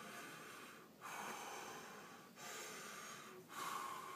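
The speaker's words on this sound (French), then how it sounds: "Allez, faites des bonnes respirations" A person takes three deep breaths, each slow inhale-exhale cycle separated by brief pauses, close and fairly quiet.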